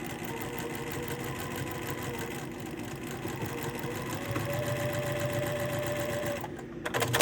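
A sewing machine runs steadily, stitching a diagonal seam across a beginner's quilt block, its mechanical whir continuous and close for several seconds before a brief slowdown at the end.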